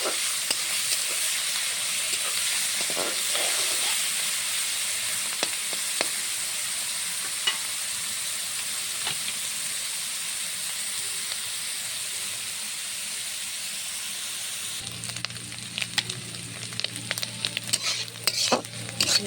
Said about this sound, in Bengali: এখন চিংড়িটা ঢেলে দেবো। সুন্দর করে লাল করে ভেজে দেবো।